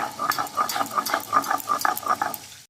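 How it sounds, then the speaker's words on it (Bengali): Cumin seeds are ground on a flat grinding stone in a home kitchen, a rhythmic series of scraping, gritty strokes repeating at an even pace, close and moderately loud. "তাই জিরেটা একটু বেটেই নিচ্ছি"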